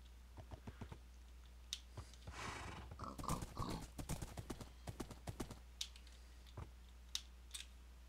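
Horse hooves clip-clop in the Minecraft video game, with a string of quick, sharp, fairly quiet hoof hits spread through the clip and a burst of busier game noise partway through.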